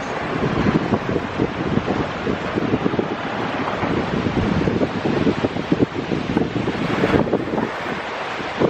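A cool sea breeze blows along the Black Sea shore in Romania, producing constant loud rushing wind noise against the microphone with waves faintly washing underneath.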